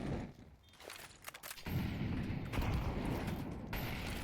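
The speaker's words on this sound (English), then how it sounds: "Big nades coming in." Grenades bursting in a Counter-Strike match, a quick scatter of sharp clicks and pops followed by a loud, sustained explosive roar that swells and then drops away.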